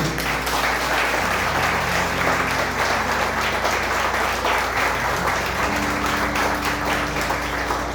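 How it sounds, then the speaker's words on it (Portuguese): A church congregation applauds during a diamond wedding anniversary service, sustained full-room clapping that holds steady for several seconds over a low electrical hum. "Você pode aplaudir o Senhor?"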